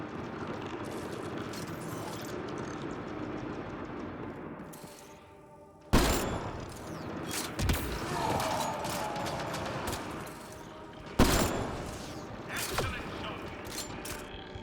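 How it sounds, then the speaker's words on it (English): Gunfire aimed at the player in the video game Mass Effect: Andromeda: a mechanical rattling stretch, then several sharp, loud shots cracking out at irregular intervals over clanking and low noise. "Something is trying to shoot at us."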